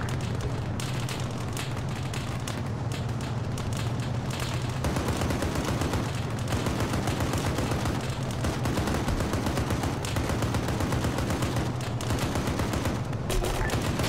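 Rapid gunfire rattles almost without pause in the military shooter Arma 3, dense automatic bursts and booms close and loud throughout a firefight, with faint radio chatter underneath.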